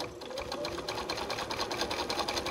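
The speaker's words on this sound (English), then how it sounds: "And what I'm going to do now is just sew, close that seam." A sewing machine stitches a fabric binding seam closed, running steadily at close range with a fast, even mechanical rattle throughout.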